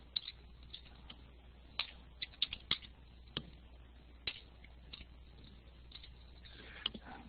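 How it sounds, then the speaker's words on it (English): Clicks from a computer keyboard come in a sparse, irregular run of sharp, fairly close taps over a quiet background hiss, with no talking. "I typed it in there, Kevin."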